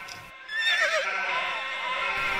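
A horse whinnies in a farming simulation game with hundreds of cows and sheep and several horses, a clear descending neigh lasting about two seconds over a steady backdrop.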